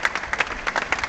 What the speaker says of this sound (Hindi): बहुत सारे लोग दरबार हॉल में इस समय खड़े हैं और तालियां बजाकर स्वागत कर रहे हैं स्वामी शिवानंद का